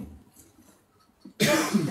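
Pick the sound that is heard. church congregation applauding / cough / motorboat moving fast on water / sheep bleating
cough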